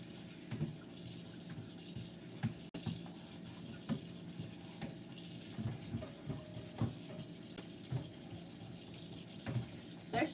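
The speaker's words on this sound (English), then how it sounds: "I'm going to run cold water and I'm going to smash them" Cold tap water runs into a sink while poke greens are washed, a steady quiet rushing with irregular splashes and clunks as the leaves are handled, no talking.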